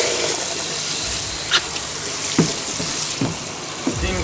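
Shower water running in a steady hiss of spray, close by, with a few sharper splashes and knocks breaking through the continuous flow.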